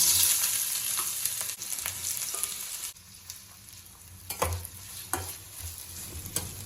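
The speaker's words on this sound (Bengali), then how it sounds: "শুকনো লঙ্কা ভাজা হয়ে গেলে আমি তুলে নেব এবার দিয়ে দেব পেঁয়াজ" Onions frying in hot oil in a pan right after dried chillies were fried, a steady close sizzle with intermittent stirring scrapes and clicks, no talking.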